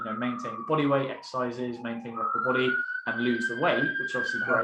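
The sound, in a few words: siren passing outside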